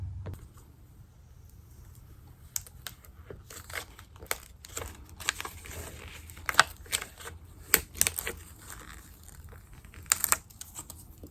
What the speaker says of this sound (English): So I'm just going to cut out the black area so I don't waste a bunch of vinyl.